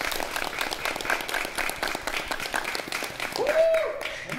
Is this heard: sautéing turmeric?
no